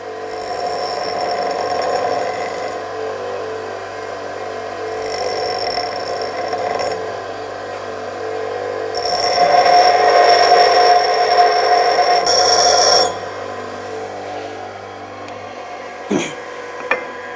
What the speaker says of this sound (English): grind the nozzle.